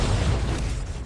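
Thunder Strike attack from the City of Heroes Electric Melee set, a loud, dense electrical blast that crackles and booms across a short burst, filling the moment with broad, rumbling noise.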